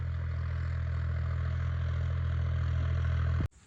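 A tractor engine idles steadily with a low, even rumble, then cuts out abruptly near the end, leaving quiet.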